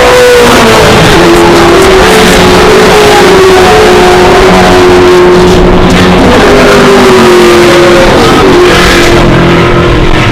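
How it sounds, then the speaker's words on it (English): A Ford Mustang TransAm race car engine roars loud and near as it gets underway at an Australian TransAm race, a sustained throaty drone with shifting pitch as it accelerates. "That's the Well Pro Mustang getting underway there."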